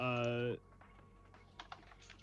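Light, scattered keystrokes on a computer keyboard tap faintly after a brief vocal tone, quiet and close in a still room.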